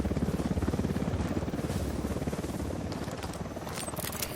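Helicopter in the video game Ghost Recon Wildlands passing overhead, a loud steady rhythmic rotor chop throughout with a faint high whine on top, no voices.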